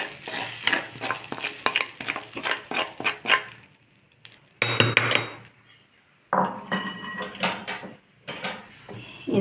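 A spoon stirs a sautéed mixture into paniyaram batter in a bowl, producing repeated clinking, scraping taps against the dish in bursts separated by brief pauses, close and clear with no talking.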